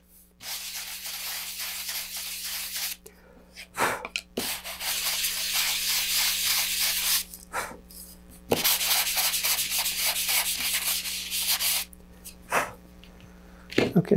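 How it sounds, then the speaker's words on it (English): Sandpaper rubs lightly over a model rocket fin in long, hissing strokes, broken by short pauses and a few sharp taps, close and fairly loud. "lightly sand the surface just to make sure everything's flat and smooth"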